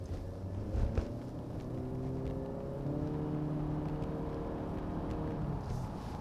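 A turbocharged 1.5-liter four-cylinder engine in a 2018 Honda Accord Touring accelerating on a highway, a humming drone whose pitch steps upward through gear changes, with a brief thump near the start and no speech.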